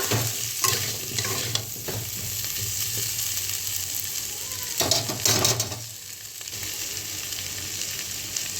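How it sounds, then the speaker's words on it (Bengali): Potatoes (matir alu, or yam-type gacha alu) fry lightly in a pan for a vegetarian dish, giving a steady close sizzle with occasional stirring scrapes and clinks. "হালকা ভেজে নিয়েছি"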